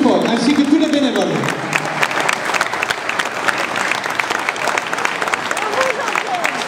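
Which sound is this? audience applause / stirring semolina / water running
audience applause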